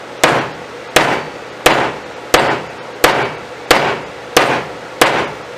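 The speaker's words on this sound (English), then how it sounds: "I like to use a heavy hammer because I want that wedge in there just as tight as I can possibly get it" A heavy hammer strikes a wedge into a hatchet handle eight times at an even, unhurried pace, each blow a loud, sharp, close knock with a brief ring.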